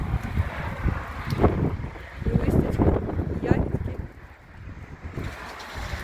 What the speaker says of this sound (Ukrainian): Вітер такий неприємний такий морозний.